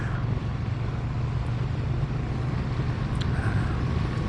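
A Triumph Bonneville T120 motorcycle from 2022 drones along the road at a steady cruise, its low engine note blended with wind rush and no voices.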